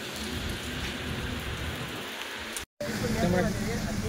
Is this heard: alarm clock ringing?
no